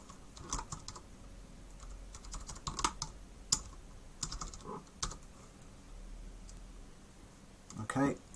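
Keys tapped on a computer keyboard while a username and password are entered, soft irregular clicks and short bursts in a quiet room, with faint speech in the background.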